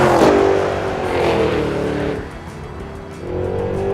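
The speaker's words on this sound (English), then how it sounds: "this is a perfect opportunity for me to downshift" A 2023 Cadillac Escalade-V's engine flares loudly on a downshift, a burst of revs that eases off and then swells again, close and strong.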